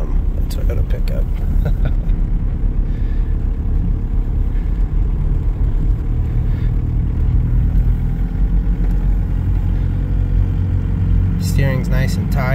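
A 1991 Toyota pickup fitted with a swapped-in diesel TDI engine runs steadily nearby, giving a continuous low rumble throughout with a brief higher mechanical sound near the end.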